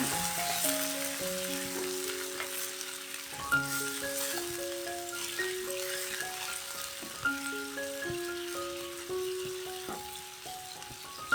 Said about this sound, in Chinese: 倒入适量的水，炒一炒。